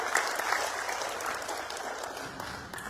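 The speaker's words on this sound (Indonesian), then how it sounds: "Tepuk tangan untuk Pak Bupati Badung." An audience applauds the Badung regent at a KONI Badung sports committee inauguration in Bali, giving steady, dense clapping that holds evenly for the whole stretch at moderate distance.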